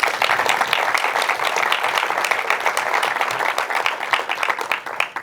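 An audience at an entrepreneurship film premiere and Q&A session in Guadeloupe breaks into steady, dense applause, many hands clapping close by before it thins out toward the end.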